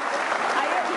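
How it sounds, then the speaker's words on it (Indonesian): Audience applause at a televised event marking President Jokowi's birthday, a steady dense wash of clapping from a crowd throughout the short moment, with no voices over it. "Kasih tepuk tangan dong Nita."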